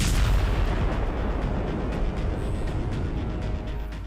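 Heavy rumbling blast noise from an Israeli missile strike on Lebanon in daylight, a loud sustained roar with scattered cracks and pops over about four seconds, with no voices.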